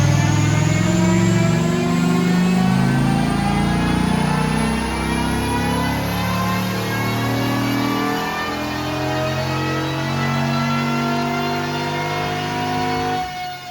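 A stock Dodge Viper engine revs on a dyno during a tuning run, a loud, steady, sustained roar climbing slowly in pitch for over ten seconds before cutting off at the end.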